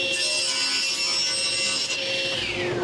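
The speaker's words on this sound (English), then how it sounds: "I'm going to cut off a piece of wood for the fence." A piece of wood being cut to size for a fence, 24 by 2 inches, gives a continuous sawing rasp with a faint whining tone running through it, close and steady for the whole stretch, with no talking.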